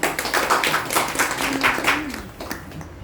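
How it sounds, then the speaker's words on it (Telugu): Audience clapping loudly at a talk, a close, steady run of hand claps with some scattered taps and a voice faintly beneath. "గట్టిగా చప్పట్లు కొడతాం"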